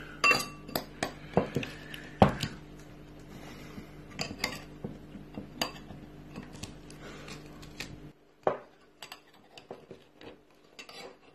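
Spoon pressing crushed garlic against a dish to squeeze out juice, giving a series of close, sharp clinks and scrapes of metal on glass or ceramic at an irregular pace, with the sounds thinning out toward the end.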